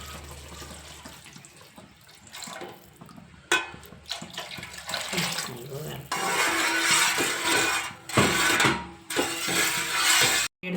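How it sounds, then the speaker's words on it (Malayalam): Second coconut milk poured into pumpkin payasam, a soft continuous liquid rush that grows louder partway through, broken by brief clatters and pauses, with a voice speaking at the start. "നമുക്ക് രണ്ടാം പാൽ ഒഴിക്കാം."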